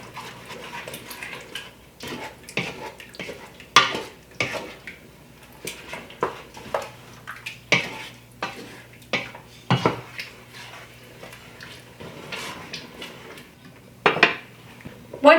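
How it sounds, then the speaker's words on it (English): A spoon stirs tomato sauce, tomato paste and honey in a pot: repeated clinks and scrapes of utensil against the pot, irregular and moderately close, with quieter stretches in between. "Give all of this a really good stir."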